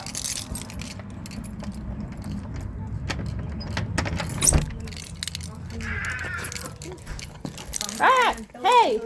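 A bunch of car keys jangles close by in short metallic clinks beside a 2023 vehicle outdoors, with the rustle of handling, a passing car and a person talking.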